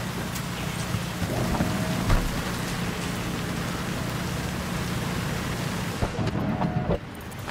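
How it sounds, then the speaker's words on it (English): Steady, dense video game rainfall pours throughout in Cyberpunk 2077: Phantom Liberty, with a few low rumbles of thunder rolling beneath the hiss. "I wouldn't stand out in the rain."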